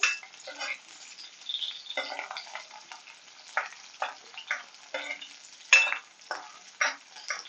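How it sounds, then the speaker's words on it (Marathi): Okra frying in a pan until its moisture cooks off, heard as bursts of scraping and stirring against the pan with soft sizzling between strokes, close and moderately quiet, no talking. "भेंड्यांमधला मॉइश्चर जाईपर्यंत आपल्याला ही भेंडी चांगली तळून घ्यायची आहे"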